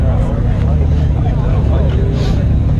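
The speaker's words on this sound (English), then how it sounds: "Now we're gonna do a fifth gear pull." A car with headers running on flex fuel pulls hard in fifth gear, its loud, deep engine drone steady and continuous, heard from inside the cabin.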